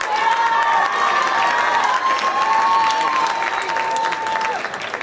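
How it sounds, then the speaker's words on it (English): Sustained applause from a school audience at an academic awards ceremony, a dense wash of clapping with some cheering mixed in, holding steady for several seconds before easing slightly at the end. "Please give another round of applause for all these performing artists"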